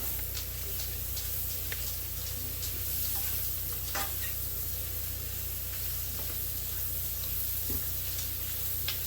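Pierogi in butter in a pan, a steady close sizzle and hiss running throughout, with a few small clicks and pops.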